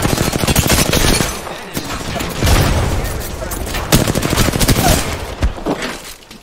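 Rapid bursts of automatic gunfire in a multiplayer shooter, loud and close, in several long volleys with short gaps between them and players talking over the shooting.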